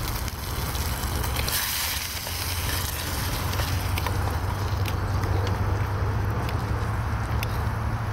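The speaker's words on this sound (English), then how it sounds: "You can hear it sizzling," Eggy bread frying in a pan on a gas stove outdoors in woodland, a steady, even crackling sizzle with occasional sharper pops, close and constant throughout.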